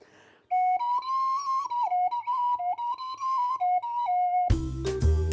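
A homemade carrot whistle plays a run of clear, breathy tones that step up and down in pitch as the finger holes are covered and uncovered, then noisy rustling takes over at the end.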